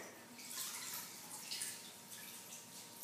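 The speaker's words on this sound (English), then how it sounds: "you're going to dip it into water" A cotton napkin tied with rubber bands is dipped into water, giving a soft trickle and a few faint drips close by on a quiet background.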